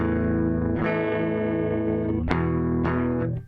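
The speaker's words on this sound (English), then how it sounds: "And then I'm going to engage the pedal." Electric guitar run through a broken digital compressor pedal that distorts, primary distortion settings off, giving sustained gritty chords with a few sharp re-struck attacks, loud and alone, fading at the end.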